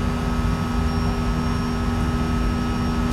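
Airbus A320neo jet engines in a flight simulator sound pack give a steady, even roar with a constant whine running through it and no talking.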